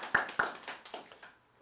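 Brief applause from a small audience at a Festival 2017 launch press conference, a few distinct claps that fade out quickly, near and fairly faint.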